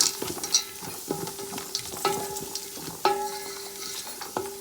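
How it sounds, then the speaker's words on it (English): Frozen green peas are being stirred into chicken fried rice in a hot pan. A spatula scrapes and taps the metal in repeated strokes over a continuous sizzle, close up with no voices. "I'm gonna add some frozen green peas because it's frozen. I want it to cook up a little. I'm gonna mix this in"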